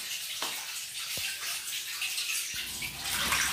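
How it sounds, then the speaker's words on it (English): A Toshiba 7 kg fully automatic washing machine, model AW-J800A-PH, drains water with a steady rushing hiss, broken by a few brief low thumps, and it grows slightly louder toward the end. "It's draining water again."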